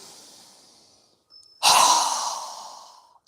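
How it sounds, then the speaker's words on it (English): A person exhales hard during a yoga breathing exercise: a faint breath fades out, then one close, loud, forceful whoosh of air bursts out and tapers away over about a second and a half. "Strong exhale."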